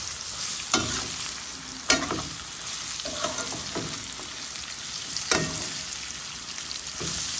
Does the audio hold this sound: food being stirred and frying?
yes